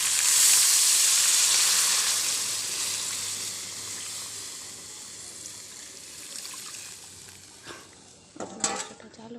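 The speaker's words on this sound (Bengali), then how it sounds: "তো আমি মাংসতে এখন জলটা দিয়ে দেবো।" Meat cooking in a pan as water is added, a loud broad hiss that gradually fades to a softer simmer, then a few clinks of a utensil near the end.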